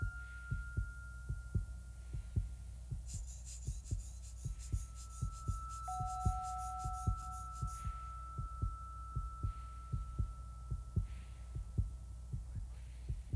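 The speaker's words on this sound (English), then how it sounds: "My heartbeat and blood pressure are still close to normal." Human heartbeat at high altitude near Everest, a steady slow thump-thump pulse repeating throughout, close and clear over a low hum with a few faint tones.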